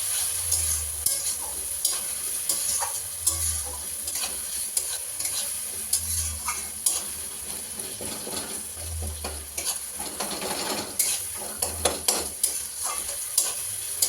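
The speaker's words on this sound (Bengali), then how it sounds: "তো চলো এবারে আমি মাংসটা কষাই" Meat being stir-fried in a pan, a steady sizzle with frequent utensil scrapes and clinks on metal, plus a low hum that pulses at regular intervals, no talking.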